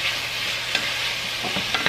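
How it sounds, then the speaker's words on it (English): Green beans sizzle steadily in a hot pan, with a few soft scrapes and clicks of stirring near the end. "I started pan frying them, like sauteing them"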